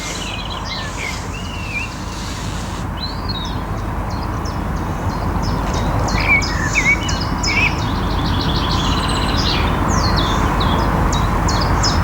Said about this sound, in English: Yeah, I can hear blackbirds, chiff-chaffs, wrens.